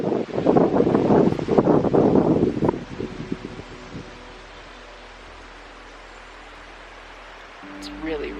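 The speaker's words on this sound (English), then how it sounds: "It's really, really windy right now." Strong wind gusting through Spirit Forest, loud buffeting rush and rustling for the first few seconds, then easing to a quiet outdoor hush before picking up again.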